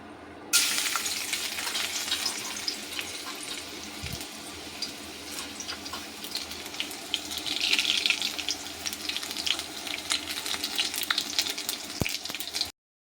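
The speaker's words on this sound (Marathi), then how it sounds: "मग आता फोडणी देऊ राहिले." Spices tempering in hot oil for a bean pod curry, with pre-boiled beans being tossed in, a continuous sizzling hiss with scattered pops and light stirring clicks, close and steady before stopping abruptly.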